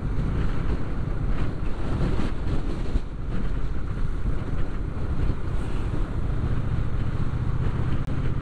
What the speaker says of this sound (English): It is a bit windier here, yep.